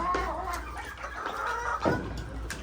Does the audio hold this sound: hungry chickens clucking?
yes